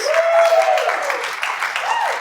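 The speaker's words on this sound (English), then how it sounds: "Give them both a big round of applause" Audience applause for two volunteers at a mind-reading magic show, a steady wash of clapping running the whole time with voices and a whistle-like tone rising over it.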